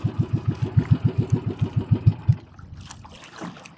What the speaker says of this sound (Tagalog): Patayin ko muna guys, makina.